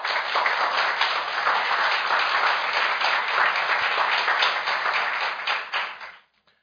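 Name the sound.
audience applause welcoming former Japanese prime minister Naoto Kan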